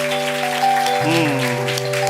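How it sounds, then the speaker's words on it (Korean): A church congregation claps during a Christmas thanksgiving service, a soft patter of hands under loud, sustained music with held tones that dominate the short moment. "다시 한번 응원의 박수, 또 하나님께 영광의 박수 드리겠습니다"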